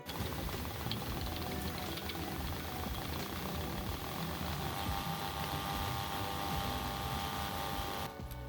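A homemade electronic speed controller drives an electric motor spinning continuously, giving a steady, loud mechanical whir with a rattling, gear-like texture that holds constant before cutting out near the end, with no speech.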